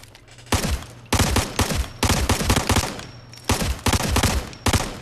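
AK-74U gunfire in the shooter game Ghost Recon Future Soldier, repeated close, loud automatic bursts of rapid cracking shots separated by short pauses.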